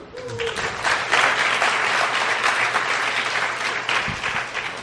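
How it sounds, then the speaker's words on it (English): An audience at a Sathya Sai Baba center in Flushing, New York breaks into sustained, dense applause, close and loud, rising then holding steady for several seconds with a brief murmur of voices beneath. "So I'd like you to clap in support of her daughter writing the book."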